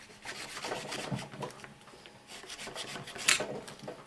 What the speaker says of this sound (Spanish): Ahora lo cortamos con el cúter.